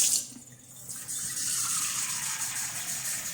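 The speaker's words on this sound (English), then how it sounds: "I'm going to use a little tap water" Tap water runs steadily from a kitchen faucet while vegetarian chili is being made, starting with a brief quieter moment before settling into a continuous, close, hissing rush.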